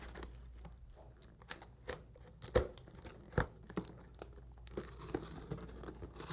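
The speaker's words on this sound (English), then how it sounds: "Go ahead and get your knife or box cutter and cut the tape sides." A knife or box cutter slices through packing tape along the sides of a gaming PC's cardboard shipping box, giving close, irregular scraping and tearing cuts with crinkling in between.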